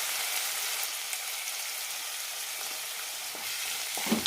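Crushed masala with onion and chopped tomato sautés in a pan for a soursop curry, producing a steady close sizzle with occasional stirring clatter toward the end.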